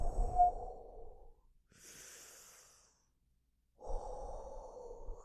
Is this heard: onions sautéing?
no